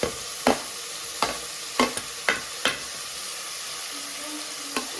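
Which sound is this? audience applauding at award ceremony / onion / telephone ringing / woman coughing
onion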